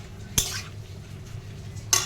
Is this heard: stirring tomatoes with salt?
yes